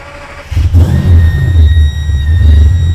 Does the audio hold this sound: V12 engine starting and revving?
yes